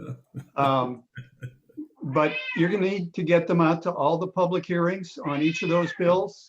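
A pet cat meows in a room during an online chapter meeting, short cries near the start before someone speaks continuously over the rest.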